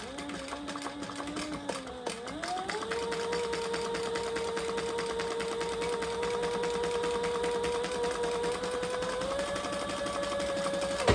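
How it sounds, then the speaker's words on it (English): A sewing machine top-stitches a leather wallet pocket, running in one long continuous whir with a brief pause and restart near the start, steady and close. "let's do some top stitching here to create that pocket"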